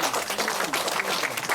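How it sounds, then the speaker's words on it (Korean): Steady applause from a crowd at a signing ceremony, a dense patter of many hands clapping without a break, moderately loud and filling the whole moment. "박수가 많이 약합니다"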